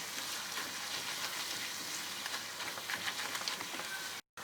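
Spices sizzle and fry steadily in a hot pan as they are stirred in for a chicken roast, a dense continuous crackle with no voices, cutting out briefly just before the end.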